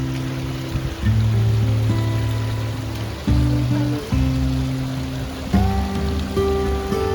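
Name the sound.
creek with rushing water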